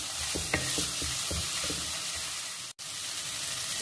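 Tomato and green chili sauté in a pan for prawn thokku. A loud, steady sizzle is broken by a few stirring clinks and drops out for a brief moment before picking up again, with no voices.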